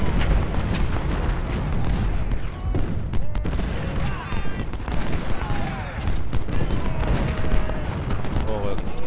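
Rapid booming cannon and artillery fire and explosions roll continuously, dense and loud, in a Civil War battle in the video game Ultimate General: Civil War, with no clear speech.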